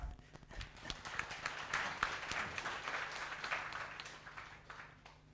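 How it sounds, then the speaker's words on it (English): Audience at a tech summit clapping, a moderately quiet, fairly even round of applause that rises slightly midway and then eases off, heard from some distance. "So a big round of applause for Ngọc."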